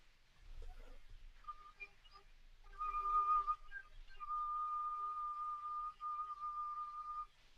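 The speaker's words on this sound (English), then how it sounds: "a technique that a lot of flutists can do on the flute itself called whistle tones" Faint, thin, sustained flute whistle tones hold a steady high pitch for several seconds after a few brief wavering starts, quiet and close with no talking.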